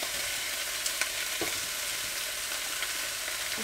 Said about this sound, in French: Allez, on va faire dorer. J'ai 1 kg de poulet là